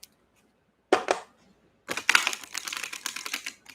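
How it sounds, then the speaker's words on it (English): A tarot card deck being shuffled: a short riffle burst, a pause, then a longer run of rapid papery flicks and snaps, close and fairly quiet. "put him back in the deck somewhere and shuffle a little bit"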